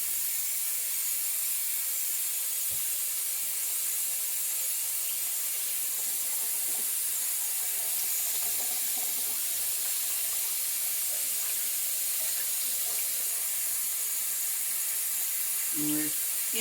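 Spaghetti rinsed under a kitchen sink tap to wash off oil gives a steady, loud hiss of running water for the whole stretch, with a brief clatter near the end.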